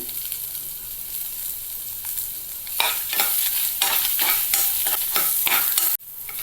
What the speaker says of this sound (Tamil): இது கூட இஞ்சியும் சேர்த்து நல்லா வதக்கிக்கங்க.